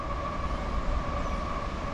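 A westbound train passes on the Lehigh/Conrail line, producing a steady, continuous rumble and rolling roar at moderate level with no distinct horn or voices.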